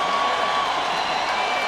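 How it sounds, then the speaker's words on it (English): Arena crowd roaring and cheering at a UFC 49 event after a knockout, a dense, loud, sustained wash of voices and whoops filling the space. "Listen to this crowd."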